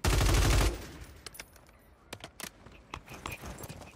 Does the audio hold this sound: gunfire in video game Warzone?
yes